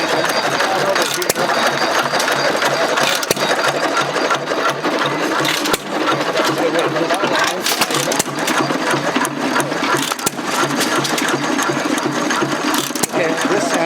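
A vintage stationary engine chugs steadily up close at a vintage engine and tractor show, with a busy mechanical clatter, loud and continuous, with faint voices in the background.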